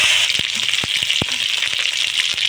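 Lata fish fry in hot oil with a steady, close sizzle, while spitting droplets give off repeated sharp pops and crackles.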